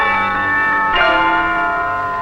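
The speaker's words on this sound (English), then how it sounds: "Telephones ringing with chimes." A telephone rings with bright, sustained chime tones that shimmer with layered overtones, and a fresh strike near the middle swells the sound before it slowly fades.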